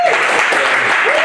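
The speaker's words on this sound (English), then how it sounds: "the IBM PowerPC guys in the room clapping" A conference audience claps in a brief, dense burst of applause from the room, with speech overlapping it.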